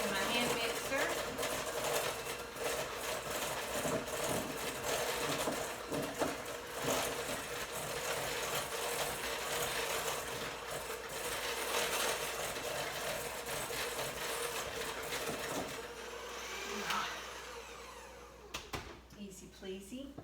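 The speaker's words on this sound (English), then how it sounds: "So I'm just going to cream this together real quick. Using my hand mixer." An electric hand mixer whirs steadily while creaming banana bread batter in a home kitchen, a continuous close motorized buzz that runs for most of the stretch before cutting off near the end, with a person talking over it.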